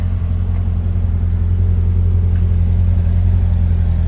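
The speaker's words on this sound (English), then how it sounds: "Fired up. It's a good looking C6 Z06 Corvette." A 2006 Chevrolet Corvette C6 Z06 idles just after a hot start, giving a steady, loud, close-up low rumble with an even throb and no voices.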